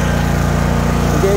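Steady, smooth engine drone from a Troy-Bilt Mustang RZT 60-inch zero-turn riding lawn mower revving up, close and loud, with the pitch climbing near the end.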